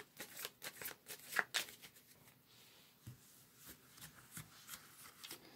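Tarot cards shuffled by hand in quick riffling bursts, with crisp flicks and slides near the start, then softer, sparser card handling, close and quiet.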